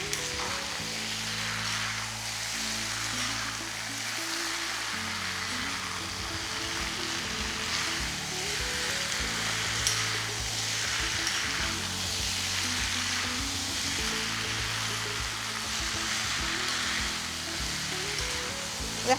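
Chicken and onions fry in hot oil in a pan with a continuous close crackling sizzle. Stirring scrapes and shifts the pieces now and then, with no voices.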